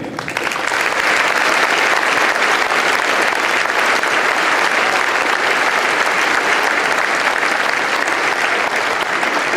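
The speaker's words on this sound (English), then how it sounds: "they all deserve another big round of applause" Loud, sustained applause from a large crowd honoring veterans at the opening ceremony of The Wall That Heals for the 50th anniversary of Veterans Day, dense clapping that holds steady for the whole stretch.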